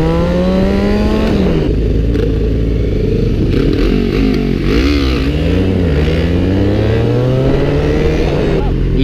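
A 300 motorcycle revs hard and loud close by, its engine climbing and falling in repeated surges as the rider tries wheelies, with voices talking over the roar.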